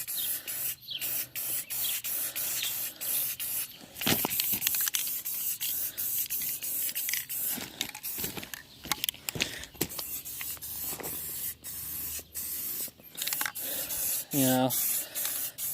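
Aerosol can spraying yellow paint onto a metal hand truck, in repeated close bursts of hissing with short pauses between, and a brief spoken remark.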